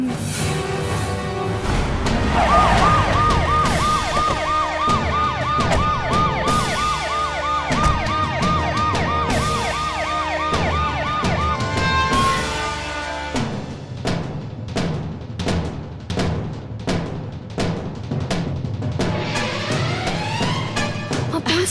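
A Tamil Nadu police car arrives with its siren wailing loudly in rising and falling sweeps for several seconds, then the sound gives way to rhythmic sharp percussive hits.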